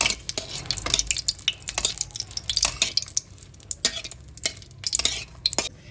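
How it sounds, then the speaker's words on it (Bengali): Four dry red chillies fry in hot oil in a wok, a steady crackling sizzle broken by repeated scraping stirs of a spatula against the metal, fairly close and with no talking. "এবার শুকনো লঙ্কাটাকে ভালো করে ভেজে নিতে হবে"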